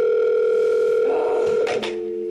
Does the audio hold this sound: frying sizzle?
no